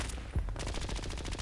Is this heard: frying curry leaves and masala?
no